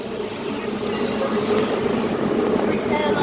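A London Underground Central line train rumbles along a curve between Woodford and Roding Valley, a steady low rolling drone with faint squeals and clicks from the wheels, loud and close from inside the carriage.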